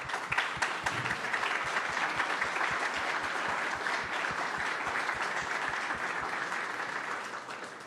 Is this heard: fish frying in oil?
no